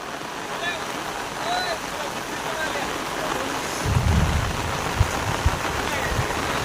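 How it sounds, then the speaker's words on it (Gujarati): Heavy monsoon rain with lightning hisses steadily throughout over a village with millet fields, and a low rumble of thunder rolls in partway, followed by a couple of dull thumps. "કડાકાંડ ભળાકાંડ વરસાદ ચાલુ અને વીજળી તો જોઈ લે"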